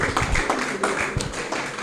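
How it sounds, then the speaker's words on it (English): Applause from an audience, a dense spread of claps over a steady crowd background, fairly close and continuous. "Another round of applause, please."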